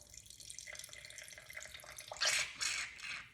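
White wine from a bottle of 120-year-old-vine wine pours into a glass in a quiet room, a gentle trickling stream that grows louder and splashier near the end as the glass fills.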